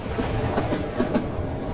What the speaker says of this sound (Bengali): দেখলাম প্ল্যাটফর্মের দিকে আসতে আসতে ট্রেনটির গতিবেগ ক্রমাগতভাবে কমে আসছে